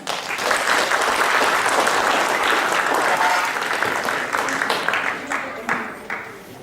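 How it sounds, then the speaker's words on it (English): An audience at a cultural program applauds, a dense, sustained burst of clapping that holds steady and then thins out and tapers near the end. "Of course, they all deserve a big round of applause."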